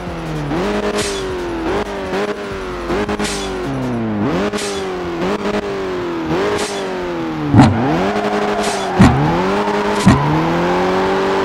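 A car engine in the Assoluto Racing video game roars loudly through a string of rising revs and gear shifts, with brief tire squeals near the end and no talking.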